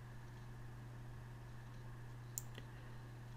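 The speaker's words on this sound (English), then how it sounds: "Click OK to save the changes." A single mouse click on the OK button in Word 2016, a faint sharp tick standing out once against a steady low electrical hum in an otherwise quiet room.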